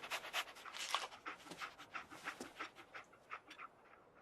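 Dog panting rapidly and sniffing in the Fallout 4 video game, a quick steady rhythm of breathy huffs close by, fairly quiet and alone.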